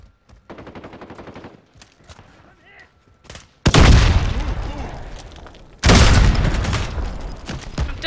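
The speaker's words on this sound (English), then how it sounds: "Then he used also a rocket." Call of Duty Warzone combat: voice chatter, then two loud heavy blasts from a rocket and gunfire, each bursting suddenly and slowly fading, close and dominant.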